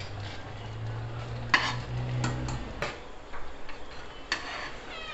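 Sevai cooks in a pan while a utensil stirs it, giving soft scraping and light clinks with a few sharper taps over a steady low hiss.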